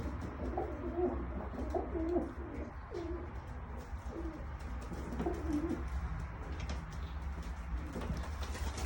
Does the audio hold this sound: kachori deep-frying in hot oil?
no